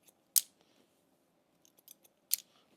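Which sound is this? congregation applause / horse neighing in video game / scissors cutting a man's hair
scissors cutting a man's hair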